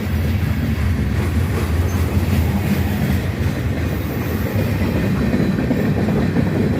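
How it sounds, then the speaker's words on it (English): A CSX train rumbles past close by, a heavy continuous roar with faint clacking of wheels on rails and no one speaking. "no, there's a train coming"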